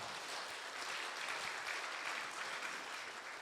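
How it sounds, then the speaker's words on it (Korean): A church congregation at a Christmas service applauds in a steady, even roll of many hands clapping, filling the room briefly with no speech over it. "박수 한번 해주시죠."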